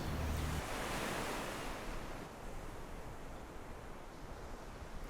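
Ocean waves where the Atlantic meets the Cape Fear River roar in a dense, continuous wash of surf, loudest at first and easing slightly, with steady wind buffeting the microphone throughout.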